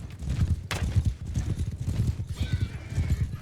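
Horses gallop in a mounted-archer battle within a video game, a dense, rapid clip-clop of many hooves running continuously and fairly loud, with a whinny breaking through near the middle.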